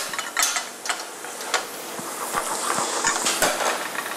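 Spinach spins in a salad spinner in a restaurant kitchen, a continuous whirring rattle with repeated clicking ratchet pulses of the crank mechanism, close and fairly loud.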